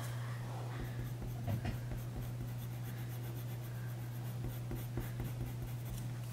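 Pencil or stylus strokes drawing shapes while texturing a stag's fur, soft scratchy scribbles in short repeated bursts, close and quiet over a low steady hum.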